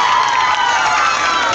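A live audience at a 2018 concert cheers and applauds loudly, a dense continuous roar of crowd noise with whoops and shouts throughout.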